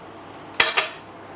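A metal spoon clinks against a bowl as ground ginger, cloves and cinnamon are spooned in: a faint tap, then two sharp, close clinks in quick succession over a quiet background.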